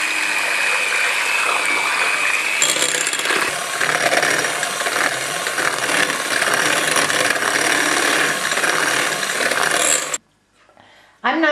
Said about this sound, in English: I'm going to beat this with my handheld beater until it doubles in volume